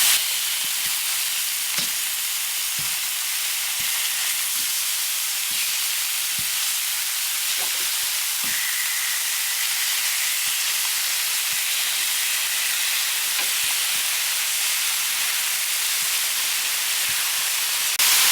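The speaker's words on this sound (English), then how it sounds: "let's put some chicken on here" Chicken sizzling on a Blackstone griddle at a home hibachi cook, a steady loud hiss and spatter that runs throughout with faint scattered clicks and taps.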